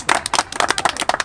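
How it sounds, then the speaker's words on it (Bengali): An audience at a prize distribution ceremony for a competition claps in a quick, close burst of overlapping hand claps, brief and fairly loud. "জোরে হাততালি যাক।"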